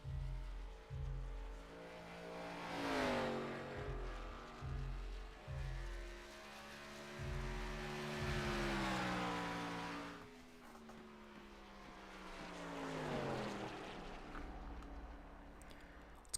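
Race car engine on a qualifying lap at Phoenix in a racing video game, a steady loud whine that rises and falls in pitch through repeated acceleration and lift-offs, alone without talking.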